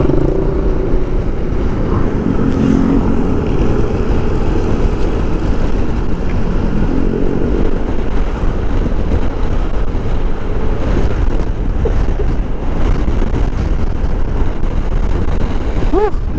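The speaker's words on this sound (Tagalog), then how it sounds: "Lakas ng hangin" Strong wind buffets a lapel microphone outdoors at a beach, a loud, steady low rumble of gusts lasting throughout with possible faint waves underneath.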